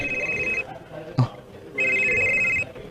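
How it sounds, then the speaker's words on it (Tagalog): A cellphone rings in two long electronic bursts, steady, bright and fairly loud, with a short pause between them, while a low murmur of voices and room noise carries on underneath. "Oh, nitingog yung cellphone"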